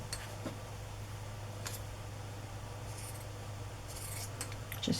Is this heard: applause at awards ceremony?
no